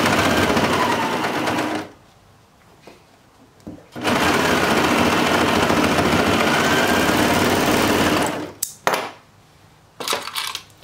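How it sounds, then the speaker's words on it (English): A serger sewing machine runs in loud, steady bursts while closing an opening in a pair of boy shorts, with a long run in the middle and short stops and starts between. "I'm gonna use my serger and just close that opening up real fast."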